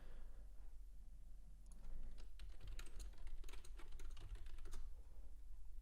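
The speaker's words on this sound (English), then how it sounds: "So if you do hear typing, see," Rapid, uneven typing on a computer keyboard, close by, with bursts of clicky keystrokes that grow busier in the second half over a low background hum.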